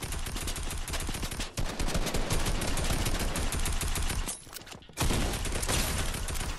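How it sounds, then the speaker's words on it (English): Rapid gunfire from a Winchester rifle in the Fortnite video game, a dense run of loud, close shots that breaks briefly twice and then resumes. "I shot him with the Winchester real quick"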